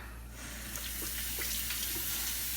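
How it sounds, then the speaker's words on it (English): Tap water runs steadily over raw ribs in a kitchen sink, a soft, continuous splashing rush with faint spatter, heard close and alone. "I'm going to rinse this a little bit."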